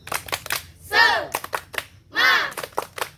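A group of schoolchildren performs the tepuk semangat rhythmic clapping chant in a classroom, with sharp hand-clap bursts alternating with two longer shouted chant phrases across a few seconds.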